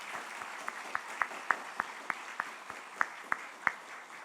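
A church congregation claps in a steady, even rhythm during a Sunday sermon, about a dozen distinct claps spaced roughly a third of a second apart, sounding soft and somewhat distant against a quiet room.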